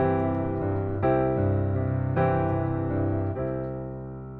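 Pop piano chords in 6/8 with a flowing left-hand arpeggio under right-hand chords, sustained harmonic tones with a few clear chord attacks, played solo and close without talk.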